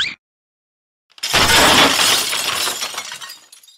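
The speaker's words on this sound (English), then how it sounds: "Classic Lincoln Loud, how dare you throw your dinner on the floor?" A dinner plate hits the floor and shatters loudly after a second of silence, and the crash of ceramic dies away into scattered tinkling fragments.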